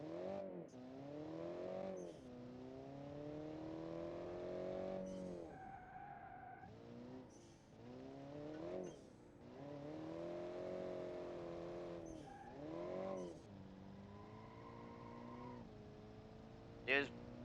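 A small turbocharged car engine, built as a rally or family car in the Automation game, revs hard again and again, its pitch sweeping up and falling back in steady surges with short pauses between.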